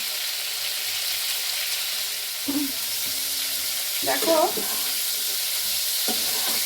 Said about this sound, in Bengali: এগুলো একটু ভেজে নিচ্ছি